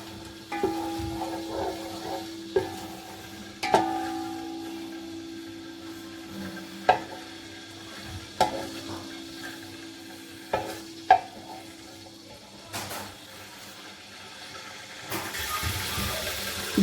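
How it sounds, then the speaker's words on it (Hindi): Whole spices such as cardamom, cinnamon, black pepper, cumin and bay leaf frying in oil in a pot for degi chicken white pulao, with faint sizzling under repeated spoon scrapes and knocks against the pot. "इनको 1 मिनट इसमें फ्राई कर लेते हैं, इनका टेस्ट जो सा वो ऑयल में आ जाए।"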